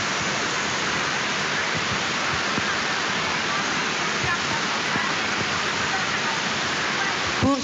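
Rain falls steadily through an outdoor Catholic mass during communion, a dense continuous hiss of drops on surfaces that stays even and fairly loud throughout.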